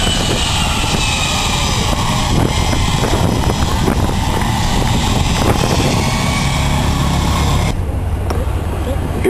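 An A-10 twin-engine jet passes at an airshow with a loud, sustained roar that fills the whole stretch, and crowd noise and voices mix beneath it before it fades slightly at the end.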